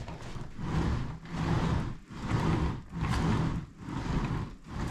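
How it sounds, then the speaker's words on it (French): An office chair on its original small casters rolls back and forth in repeated rumbling, whooshing sweeps, about five close passes separated by brief pauses, with no talking. "Là c'est le bruit de la chaise avec les roulettes, les petites roulettes d'origine."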